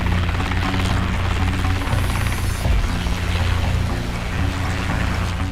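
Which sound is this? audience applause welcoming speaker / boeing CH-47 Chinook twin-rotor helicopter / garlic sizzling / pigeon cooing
boeing CH-47 Chinook twin-rotor helicopter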